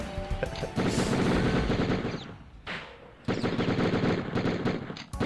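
Akimbo pistols blaze in a video game shootout, with dense rapid bursts of gunfire that fill most of the stretch, a brief lull in the middle, then another sustained volley at close, loud range.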